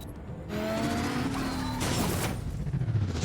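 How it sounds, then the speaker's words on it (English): Car crashing in Batman: The Telltale Series, a loud burst of impact and crunching noise that starts abruptly, holds with a screeching tone, then breaks into scattered debris and rumble as the engine sound drops away, with no voices. "I just crashed my car."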